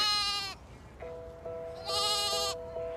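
Sheep and lambs bleating in a farm field, with a loud nearby bleat followed by several steadier calls and another strong bleat, with no one speaking.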